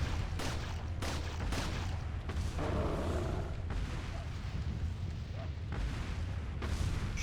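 Gunshots in a Resident Evil game, a string of loud, sharp cracks at irregular intervals over a constant rumbling in-game background, with no voices.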